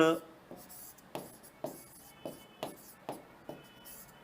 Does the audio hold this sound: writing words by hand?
yes